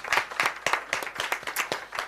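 A small audience at a media breakfast gives a brief round of applause, a thin, fairly quiet patter of separate hand claps in an uneven rhythm.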